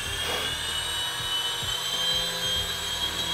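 An Eachine H101 coaxial RC helicopter flies close by, its rotors giving a steady high-pitched whine with a constant electric motor hum and a few soft low thumps, with no talk over it.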